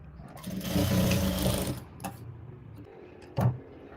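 A sewing machine stitches a blouse in a short burst of rapid mechanical whirring that lasts about a second, then stops, followed by a couple of sharp clicks.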